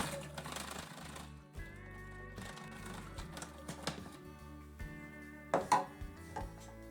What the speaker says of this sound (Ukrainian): На малих оборотах збиваємо.